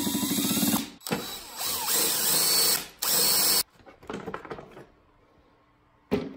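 A power tool whirs in loud, sustained bursts with brief pauses and ratcheting mechanical clicks while a burnt-out stock 24-volt motor is removed from a Razor Pocket Mod electric scooter, close by, ending in scattered lighter clanks.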